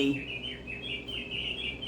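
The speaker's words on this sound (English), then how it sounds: "there's my birds singing" Birds sing in a community garden, repeated high chirping phrases close and steady over a low background hum, with no talking.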